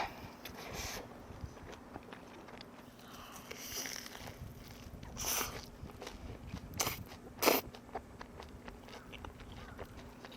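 Cheesy fried chicken eaten outdoors in a front yard, quiet crunchy bites and chewing close by, with a few sharper crackling crunches.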